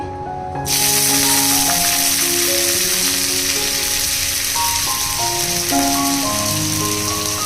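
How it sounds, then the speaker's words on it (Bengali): Drumstick pieces and other vegetables dropped into hot oil in a wok, setting off a sudden loud, dense sizzle that holds steady, close up, with a faint tonal hum running underneath. "তেল অ্যাড করার পরেই আমি প্রথমে সবজিগুলোকে এক একটা করে ভেজে নেব তাহলে সজনে ডাঁটাটা দিয়ে দিচ্ছি"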